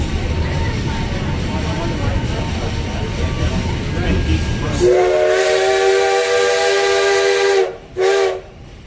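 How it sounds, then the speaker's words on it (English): A loud steam train whistle blows a long sustained chord, cuts off briefly, then sounds a shorter second blast over rumbling train noise. "that loud warning whistle"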